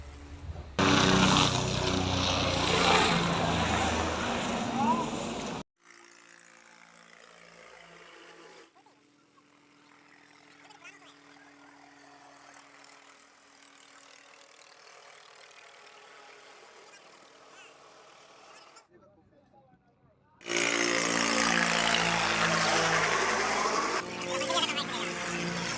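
Near Kedarnath, a helicopter drones loud and full for several seconds, fades to a low distant hum through the middle, then returns strongly near the end; voices talk over it.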